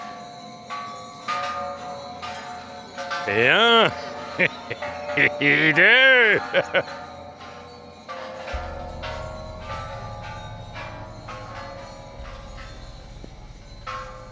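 Bells ring out in a few loud, resonant strikes with long shimmering decay, while people count aloud and talk around them outdoors.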